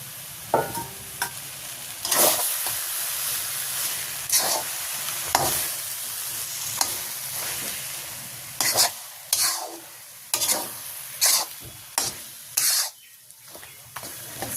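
A fish head sizzles and fries in a hot pan while cooking for an ash gourd ghonto, with repeated sharp scrapes and clanks of a utensil stirring against the metal over a steady hiss.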